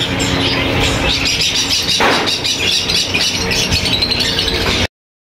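Cockatiels and doves at a Sunday bird market in Bahawalpur give dense, close chirping and rattling chatter that runs continuously for several seconds before cutting off.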